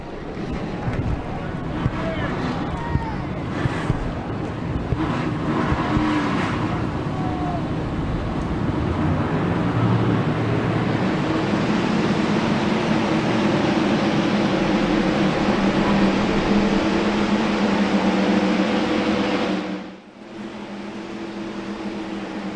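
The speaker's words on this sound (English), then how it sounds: "Drivers, start your engines!" A field of stock race cars fires up at a Wisconsin short track for a Street Stocks race, building into a loud, dense engine roar that holds steady before cutting down sharply near the end.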